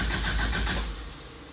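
Toyota 22R engine being cranked during a rebuild, a short burst of churning starter and engine noise that fades off after about a second, fairly quiet and without talk.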